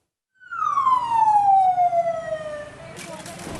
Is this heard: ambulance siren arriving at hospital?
yes